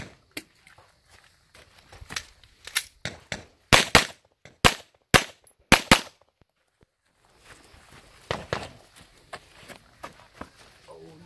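Gunshots at a cowboy action shooting match ring out as a string of sharp, loud cracks with metallic clangs of hits on steel targets, then a pause before a further burst of shots, with voices nearby.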